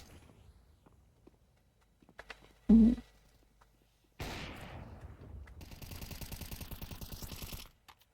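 Counter-Strike 2 gunfire: a sharp single shot, then a sustained burst of rapid automatic fire, with faint thuds and quiet stretches between.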